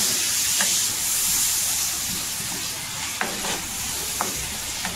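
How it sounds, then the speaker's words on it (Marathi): Curd sautéed and stirred in hot oil for a spicy chilli bhaji, giving a steady close sizzle with a few sharp spoon scrapes and clicks through it, no voices. "दही पूर्णपणे असं तेलामध्ये मिक्स करून घ्यायचा, परतून घ्यायचा"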